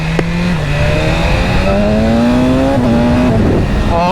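A Yamaha MT-10 motorcycle accelerating hard, its loud, close engine note climbing steadily through the gears with brief shift dips, sustained and dominant with no talking.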